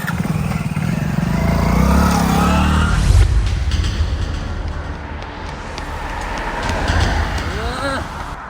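A motorcycle engine close by revs and pulls away, the loud rumble shifting and fading as the bike rides off, with voices talking over it.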